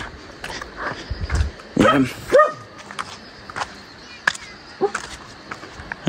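A dog gives a few short barks and yips at moderate distance, scattered among rustling and background noise.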